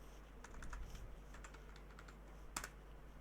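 Password typing on a computer keyboard: a quick, quiet run of soft key taps close up over about three seconds, ending with a sharper final keystroke, with no voices.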